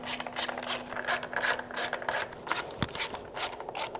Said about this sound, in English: and then grab my ratchet.